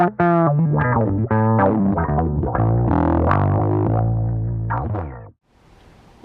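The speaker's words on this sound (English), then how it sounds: "here's a little wah-wah action for you" An Epiphone Thunderbird Classic PRO bass guitar through a wah-wah pedal plays a short phrase, its tone sweeping and vowel-like as notes rise and fall, ending in a brief silence.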